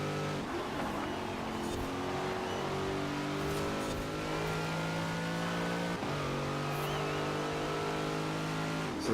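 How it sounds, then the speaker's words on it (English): A modern muscle car built for S1 900 class in Forza Horizon 4 drives on a wet road, its engine droning loud and steady with rising and falling revs and gear changes. "So the car seems to be driving pretty well right now, even in the wet."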